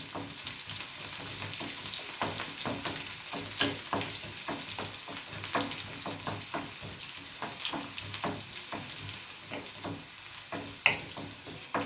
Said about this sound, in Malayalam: ചുവന്നുള്ളി, ഒന്ന് നിറം മാറുന്നത് വരെ ഫ്രൈ ചെയ്യണം.